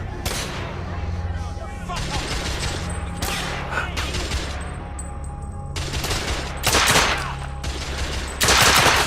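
Heavy gunfire in the werewolf-hunting shooter The Order: 1886, with dense overlapping bursts and booming shots running throughout, louder blasts near the end, and some voices mixed in underneath.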